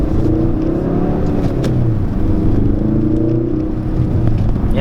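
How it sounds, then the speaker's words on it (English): A 2017 Ford Focus RS accelerating, its engine note a loud, close, steady rumble heard from inside the cabin, rising in pitch as it pulls. "it sounds good when you're accelerating"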